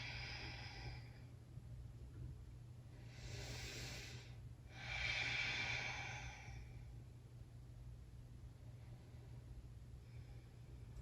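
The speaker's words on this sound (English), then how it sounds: "Breathing here." Slow, deep breaths during a seated yoga twist, with a few soft hissing inhales and exhales rising and falling, close and quiet over a low steady hum.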